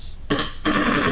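A single throaty burp in two quick parts, a short opening croak followed by a longer, louder rasping belch, close to the listener with no talk.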